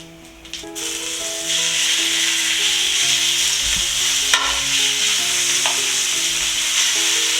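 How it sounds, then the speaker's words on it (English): Beef pieces stir-fry loudly in hot oil in a pot for beef and broccoli. The sizzle is a dense, continuous hiss that swells after a quiet start, and a few scrapes and clinks cut through it. "Cook, not stirring, for 1 or 2 minutes, and then we'll stir fry."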